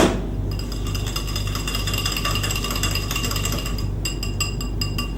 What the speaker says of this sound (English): Again, whisk it.